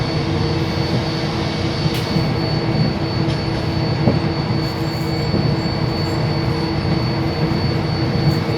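A three-carriage express train rumbles steadily along the rails with a continuous droning roar and faint metallic squeals, no voices present.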